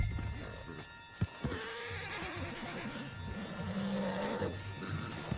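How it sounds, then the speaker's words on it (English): A horse in Red Dead Redemption II whinnies loudly and close, followed by snorting and shuffling, with a sharp knock partway through. "Put Strauss on the back of John's horse"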